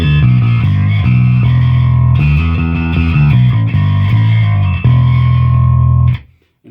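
Heavily distorted electric guitar chords through a Tech 21 Dug Pinnick pedal ring out loud and sustained, changing a few times before cutting off abruptly at the end.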